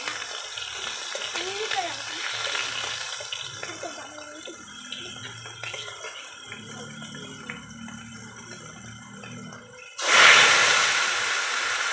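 Whole dried red chilies and spices such as nigella seeds sizzle in hot oil with a steady close hiss and crackle, swelling sharply louder near the end as more goes into the pan.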